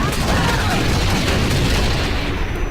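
Dense, continuous gunfire and bursts in the futuristic shooter Battlefield 2142, loud and crackling throughout with no break.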